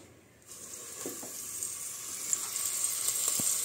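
Floured beef cheeks dusted with sweet paprika hit a hot pot and begin searing, a quiet moment followed by a bright, continuous sizzle that builds steadily, with a few soft knocks as pieces are added.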